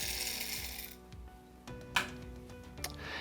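A Kinu Phoenix hand coffee grinder set to a medium grind works through lightly roasted beans, giving a quiet, close, crackling, ratcheting crunch with a few sharper clicks over a low steady hum.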